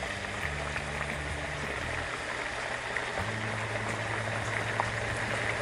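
Spiral cut red potatoes sink into hot frying oil, producing a loud, continuous close-up bubbling sizzle with fine crackling that holds steady throughout, beside an outdoor Florida-style catch-and-cook frog leg fry.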